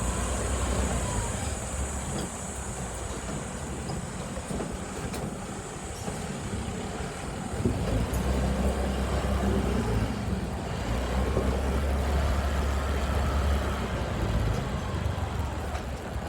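Road traffic rumbles steadily around a moving vehicle in Dasmariñas, Cavite, a continuous low drone of engines and tyres with passing vehicles rising and falling, heard from inside or near the car without talk.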